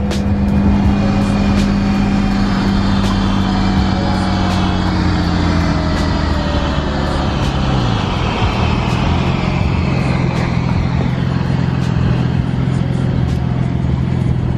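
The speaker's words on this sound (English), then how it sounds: "Got this GTR right next to us." A Nissan GT-R idling and rolling beside a BMW 335is on the road, a loud steady engine and road drone with rising and falling engine tones, heard from inside the car.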